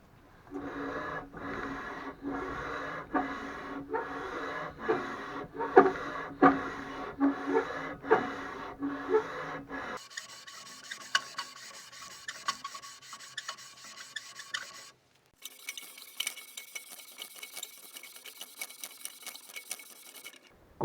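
An engine cylinder head hand-lapped on sandpaper sheets glued to a flat surface, giving a steady back-and-forth rasping scrape in regular strokes, close and alone, with the texture shifting to a higher, finer grind partway through.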